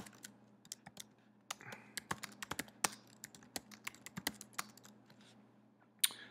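Steady typing on a computer keyboard, a run of distinct close key clicks at an uneven rhythm over a faint background hum, with no speech.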